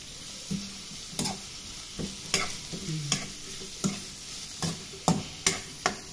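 Adobong sitaw of string beans and soy sauce being stirred in a frying pan, a low continuous sizzle broken by about a dozen sharp scrapes and clanks of the spatula at an uneven pace, with no talking.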